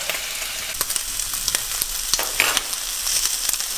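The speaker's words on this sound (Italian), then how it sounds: "Possiamo iniziare a schiattare il nostro hamburgerozzo, che essendo bello doppio dovrà cuocere un poco di più" A thick double hamburger patty sizzles steadily in a hot pan, a dense even crackle with small spitting pops scattered throughout, close and continuous with no talk.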